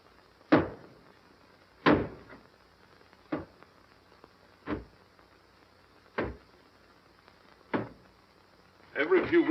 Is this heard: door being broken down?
yes